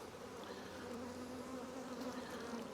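Faint, steady buzzing of many honeybees at an open hive that nearly died out over winter, a continuous insect drone with no voices.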